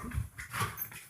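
A dog whimpers in short, faint whines, two or three soft bursts close by, alone with no talking.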